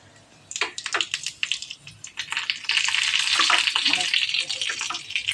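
Cumin seeds hit hot oil in a kadhai over a high flame, with carom seeds already in: a few sharp crackling bursts, then a loud, steady, close sizzle that swells and holds.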